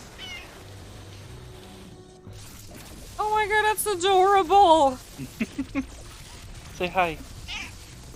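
A pet cat named Max meows in a string of clear, close calls that rise and fall, with further short mews after them, while a person talks over the cat.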